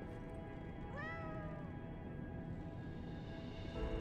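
One clear meow from a cat in the video game Lies of P, drawn out and slightly falling, sounding fairly close over quiet, constant game ambience with nothing else prominent.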